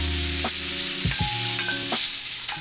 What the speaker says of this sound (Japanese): ある程度炒まったところで、先ほど逃がした玉ねぎとベーコンですね、こちら入れてあげて